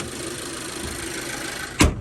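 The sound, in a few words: 2012 Chevy car engine idling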